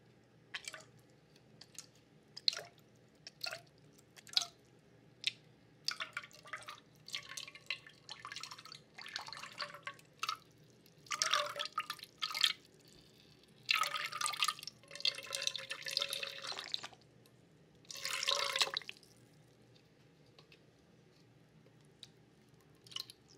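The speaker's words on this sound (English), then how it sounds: "I'm gonna do a little bit of the squirting out some of the water." Close-up liquid squirting and dripping, with scattered wet drips and squishes broken by several longer spraying bursts, heard alone in a quiet room.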